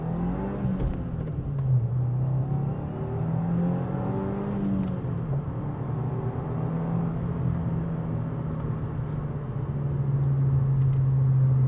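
A Subaru WRX engine climbs through the revs as it accelerates on the road, shifting up a couple of times, then settles into a steady drone while cruising.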